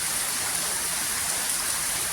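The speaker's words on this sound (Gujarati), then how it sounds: "વરસાદ થોડો કેવો ધીમો પડ્યો હવે" Heavy monsoon rain pours down continuously in a dense, even hiss, close by and loud, with no voices over it.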